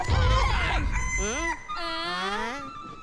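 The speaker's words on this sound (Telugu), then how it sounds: "ఇది పెట్ట కాదు పుంజు" A rooster crows loudly and close by, giving one long, wavering call. Some low rumbling noise sits under the opening moment.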